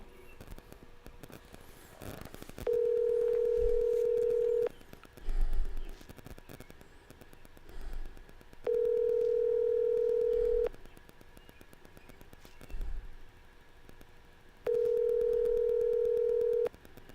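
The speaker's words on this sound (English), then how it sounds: "Trying to get Bob on the phone" A telephone line gives a steady single-pitched ringback tone during a call made on a live stream, with three long two-second beeps evenly spaced over faint background hiss and a few soft thumps.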